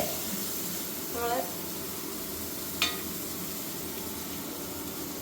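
Onions fry in a pan for paneer butter masala, a steady soft sizzle running throughout, with a brief stirring scrape and a light clink partway through.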